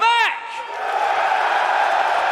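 A brief shouted voice opens, then the middle and back of a live esports crowd at the FACEIT Major in London 2018 erupt in a loud, sustained cheer with whoops and clapping.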